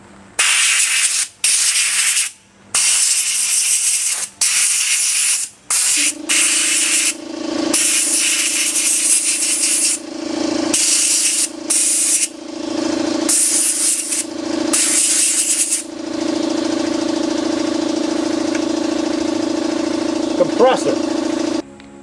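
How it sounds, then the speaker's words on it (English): Air compressor running in a shop during soda blasting and primer work, a steady hum that settles in after repeated bursts of loud broadband spray noise and carries on continuously to the end. "Compressor was running"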